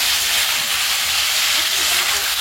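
Goat meat cooking down in a spiced masala, a loud, dense steady hiss and sizzle close up with no pauses.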